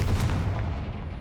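The Confringo fire spell cast in the Hogwarts Legacy video game, a brief heavy booming blast that rumbles low and fades.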